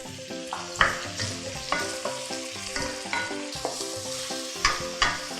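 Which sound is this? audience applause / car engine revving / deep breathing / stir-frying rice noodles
stir-frying rice noodles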